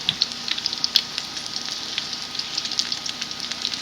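Homemade burgers frying and sizzling in a pan as they are flipped, a continuous crackling sizzle with frequent sharp pops, close and fairly loud, no voices.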